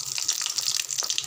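French fries sizzling in hot oil, a steady bright crackle and hiss with small popping bursts, continuous and fairly close.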